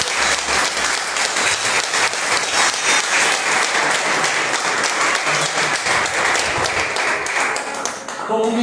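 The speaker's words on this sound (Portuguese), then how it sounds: "Você pode aplaudir o nome do Senhor Jesus." A church congregation breaks into sustained, dense applause in praise, steady and loud from start to finish with a faint voice near the end.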